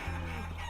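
Chicken clucking in the Guacamelee video game, a brief steady fowl call with a low drone underneath, lasting under a second.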